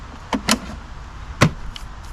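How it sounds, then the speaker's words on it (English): Battery being popped out of a Stihl RMA 460 battery-electric lawn mower: a couple of quick plastic clicks and a latch snap, close and brief, with a short pause between. "We'll pop out the battery."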